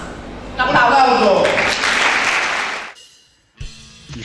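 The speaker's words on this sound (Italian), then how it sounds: "Un applauso!" Audience applause at a choral competition, a loud burst of clapping that swells in, holds, then cuts off, followed by brief speech.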